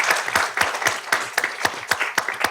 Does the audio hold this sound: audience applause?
yes